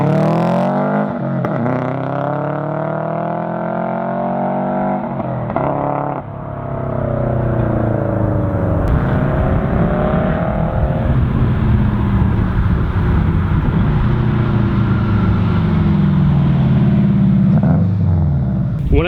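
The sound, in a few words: Subaru WRX wagon engine revving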